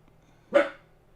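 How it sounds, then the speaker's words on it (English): A small chubby dog gives one short, sharp bark, close and fairly loud against a quiet background. "A little chubby dog."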